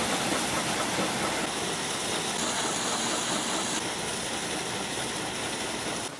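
An antique steam engine runs at a 2015 heritage farm show, a dense steady hiss and mechanical clatter filling the air with no voices, close and continuous for several seconds.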